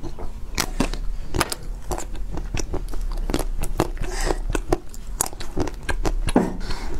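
Close-up bites into a chocolate-covered mousse cake, repeated sharp crackly snaps of the chocolate shell at an irregular pace with soft chewing between, loud and intimate.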